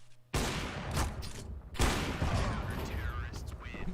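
Bomb explosion in Counter-Strike: Global Offensive, a sudden loud blast followed by a second heavy boom and sustained roaring, crackling rumble filling the clip.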